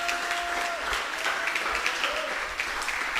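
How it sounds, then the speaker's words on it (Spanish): A church congregation applauds, steady mid-distance clapping that runs for about three seconds with a faint voice and tone underneath. "Démosle un aplauso al Señor."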